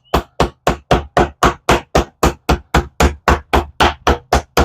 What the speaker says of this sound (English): I want to come in here with my meat hammer